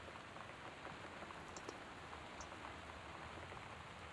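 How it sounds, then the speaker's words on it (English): Steady rain in the video game Gone Home during a torrential storm with high winds, a soft continuous hiss of falling drops with a few faint brighter ticks, quiet and unbroken. "West Weather Service reports high winds and torrential rain conditions"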